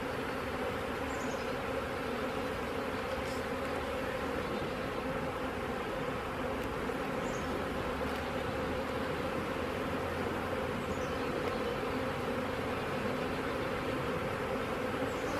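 Honeybees buzzing around a beehive nuc, forming a dense, continuous drone that stays loud and steady throughout, with occasional individual bees passing close.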